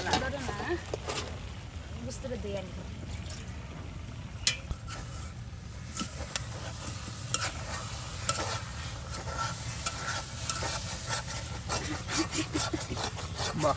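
Dried fish curry with taro leaves, stems and potato is stirred in a pan over a steady sizzle, with repeated scraping and rubbing strokes throughout while people talk quietly nearby.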